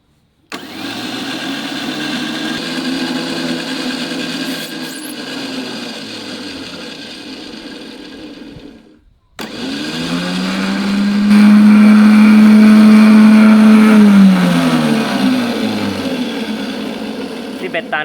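A large electric Hi-Winch truck winch with a big motor spools in bare wire cable. Its loud whining drone runs, cuts out briefly, then starts again and rises to a strong, sustained pitch.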